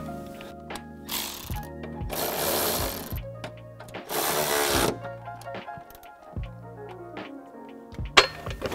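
A power tool tightens the top bolts of a Vicrez Performance coilover suspension kit on a Dodge Challenger, with several loud whirring bursts separated by a humming idle and small metallic clinks up close.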